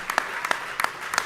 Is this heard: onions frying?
no